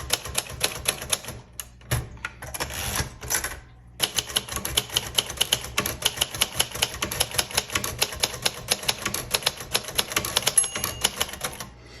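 A 1964 Royal Safari typewriter being typed on, with crisp rapid keystrokes in a steady stream, a short pause partway through, then brisk typing again, all close and without any talk.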